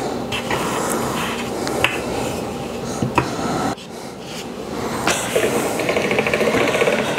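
A hand-cranked pasta machine rolls ravioli dough, a loud, close run of rattling, clicking gear noise with a brief pause before the cranking resumes.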